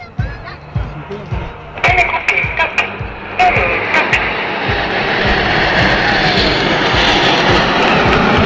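Patrouille de France jets roar overhead in formation at an air show, a building, sustained whoosh that swells and fills the air, mixed with a few sharp pops early on.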